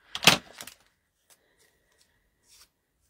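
Scissors snip through thin catalog paper while a paper doll is cut out, one close, crisp burst of cuts followed by a few faint, isolated snips after a pause.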